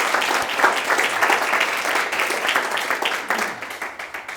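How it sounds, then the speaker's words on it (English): An audience applauds at a campaign kickoff event for a Wisconsin State Assembly race, a dense, sustained round of clapping from a crowd at moderate volume. "Give them a round of applause"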